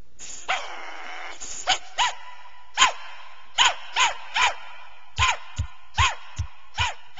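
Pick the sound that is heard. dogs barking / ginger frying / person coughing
dogs barking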